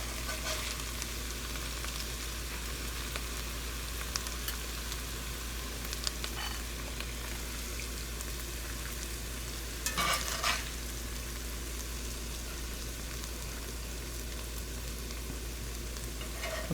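Ground pork frying in a pan for Asian lettuce wraps, a steady close sizzle running throughout with a few brief scrape and stir clatters, no voices.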